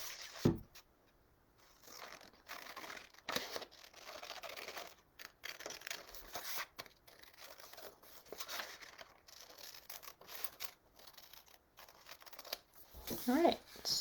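Scissors cut out the top fin of a craft fish made from recycled CDs, giving a string of faint, irregular snips and crinkles close by with quiet gaps between them.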